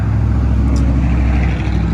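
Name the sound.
cars driving past outside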